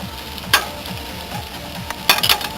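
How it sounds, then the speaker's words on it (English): Garlic frying in a pan in a campervan kitchen, a low steady sizzle broken by a few sharp clinks of a utensil stirring against the pan. "look at them just browning lovely, them garlics"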